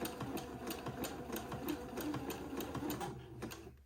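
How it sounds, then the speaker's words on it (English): A sewing machine zigzag-stitches lace and entredeaux together, its needle chattering in a fast, even mechanical rhythm that runs steadily at close range before easing off at the end. "And then just start zigzagging them together."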